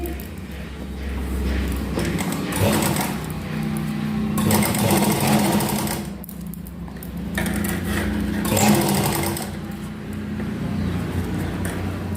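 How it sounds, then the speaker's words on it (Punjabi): A sewing machine stitching a fabric neckline, running in long steady bursts with brief pauses between them, close and fairly loud with a rhythmic mechanical whir. "ਇੱਥੇ ਇੱਕ ਇੱਕ ਪੈਰ ਦੀ ਸਿਲਾਈ ਲਗਾਣੀ ਹੈ"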